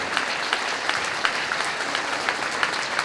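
An audience applauds the figure skating club at a Christmas skating show in Montecchio Precalcino, dense even clapping with scattered sharper claps, steady throughout with no voices.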